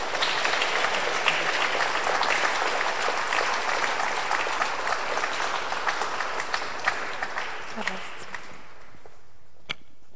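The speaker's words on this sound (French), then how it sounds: "Je vous invite à les applaudir" An audience at a Paris talk applauds the arriving guests, a speaker and his interpreter, with steady dense clapping that fades out near the end.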